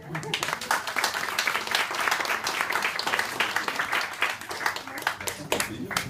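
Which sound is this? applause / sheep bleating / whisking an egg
applause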